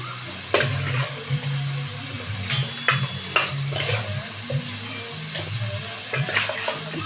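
Onions, tomatoes and sliced green chillies sizzle and fry in a pan for chicken biryani, with a steady close-up crackle broken by several sharp clinks and stirring knocks; no one talks.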